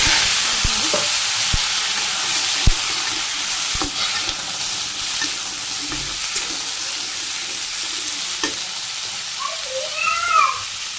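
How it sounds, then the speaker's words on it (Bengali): Cumin seeds fry in hot oil with pumpkin for a home-cooked Bangladeshi village dish, making a loud, steady sizzle. A few utensil clicks and stirring scrapes sit over the sizzle. "তেল গরম হয়ে গেছে, আমি জিরে দিয়ে দিলাম"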